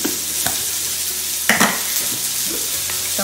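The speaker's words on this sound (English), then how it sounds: "Listen to that fried sizzle." Chicken, celery, carrots and onions sizzle steadily in a hot frying pan, a constant hissing crackle with a few soft scrapes and clinks of stirring, close and alone.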